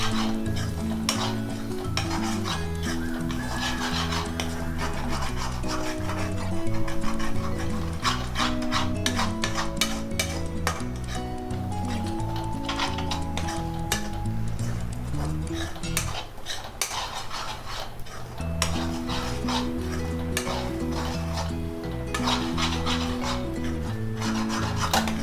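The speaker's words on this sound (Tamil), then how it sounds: "இஞ்சி பூண்டு விழுதை சேர்த்துட்டு கைவிடாமல் நான் நல்லா கலந்து விட்டுட்டே இருந்தேன்" Ginger-garlic paste stirred continuously in a pan over medium heat for chicken chukka, with steady metal spoon scraping and rubbing against the pan over a soft sizzle, close and sustained, no talking.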